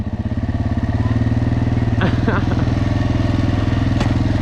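An ATV quad engine revving with a steady pulsing chug, loud and close throughout, with brief clanks midway and a voice talking over it.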